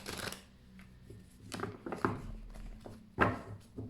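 Tarot cards are handled, riffled and shuffled in a quiet room as a run of soft papery flicks, rustles and light taps.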